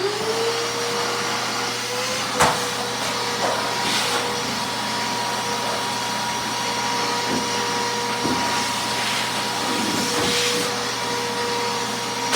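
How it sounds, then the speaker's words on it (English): A vacuum cleaner runs steadily and loudly for the whole stretch, a constant whine with a few clunks and bumps as it is pushed around during cabinet installation work. "Now I can vacuum."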